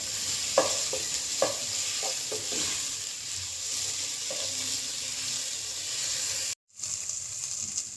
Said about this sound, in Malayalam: ഇനിയിപ്പോൾ നമുക്ക് ചിക്കൻ ഇതിനകത്തോട്ട് ആഡ് ചെയ്തിട്ട് മിക്സ് ചെയ്യാം